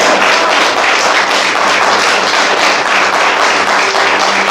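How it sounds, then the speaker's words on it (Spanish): Loud, dense applause from a church congregation giving praise during a Spanish-language worship service, steady full-room clapping throughout. "¿Por qué no le damos un aplauso al Señor?"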